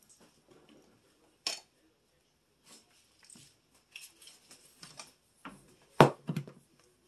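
Small metal clinks and taps of spices being spooned into a crockpot of chicken cacciatore made with leftover rotisserie chicken, sparse and close in a quiet kitchen, with one louder clatter near the end.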